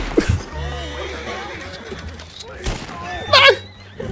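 A horse in the video game Red Dead Online whinnies, with a short neigh early on and a louder, rising whinny near the end. Voices talk over the background throughout.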